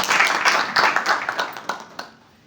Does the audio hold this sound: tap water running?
no